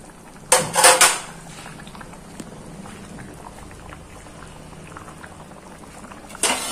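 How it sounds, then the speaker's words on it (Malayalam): Fish curry soured with kudampuli bubbles steadily in a pot, a soft continuous simmer broken by a brief clatter of the pot or lid near the start and another near the end, with no one talking. "കുടപ്പുളി തിളച്ചപ്പോൾ ഞാൻ അതിലേക്ക് മീനിട്ട് കൊടുത്തിട്ടുണ്ട്"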